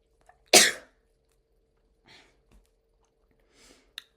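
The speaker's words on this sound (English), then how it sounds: "I need to sneeze." A single loud, sharp sneeze bursts out near the start, followed by a few faint breaths and small mouth sounds in a quiet room.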